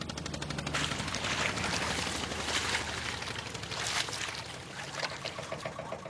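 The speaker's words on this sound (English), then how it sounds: "Once we're underway, there are no problems." A boat's motor runs steadily while underway, a loud, continuous broadband roar and rumble with no break across the whole stretch.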